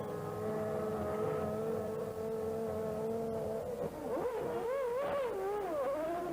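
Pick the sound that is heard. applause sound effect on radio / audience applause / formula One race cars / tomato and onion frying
formula One race cars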